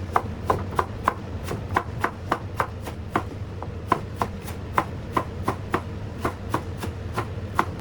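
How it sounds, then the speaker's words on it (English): Knife chopping scallions on a cutting board in a home kitchen, a steady run of about two dozen sharp, evenly spaced chops, close and clear, with no talk. "I chop some scallions and set them aside"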